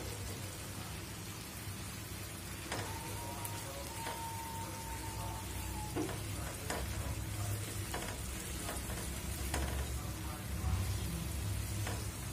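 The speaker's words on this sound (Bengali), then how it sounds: "দিয়ে আবার আমি আরো 2-3 মিনিট কষা নিব মূলাটা" Radish and spices sauté in a pan with a steady, rain-like sizzle and crackle, close and even throughout, with occasional stirring knocks and faint background sounds.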